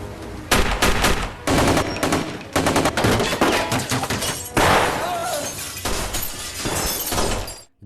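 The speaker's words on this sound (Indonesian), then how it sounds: "Frankie melepaskan tembakan hingga aksi baku tembak pun gak bisa dihindarkan" Gunfire rings out in a film shootout with police during a bank robbery: loud, dense bursts of shots, some rapid like automatic fire, mixed with shattering glass and dramatic background music, continuous throughout.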